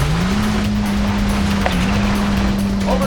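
Engine drone of a rally car in Sega Rally on the Sega Saturn, a steady high-revving tone with small pitch shifts and a brief skid or impact partway through, loud and continuous.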